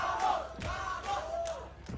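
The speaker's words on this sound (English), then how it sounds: "hometown crowd, almost our home field advantage" A hometown crowd at a VCT Americas LCQ Valorant esports match roars in support of KRU, with loud, sustained cheering and rising shouts that swell and ebb throughout.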